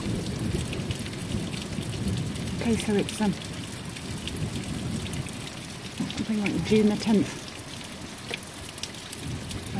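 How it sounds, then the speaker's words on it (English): Heavy rain pours down steadily during a June storm, a dense hiss filling the whole stretch while someone talks briefly over it twice. "And it's raining."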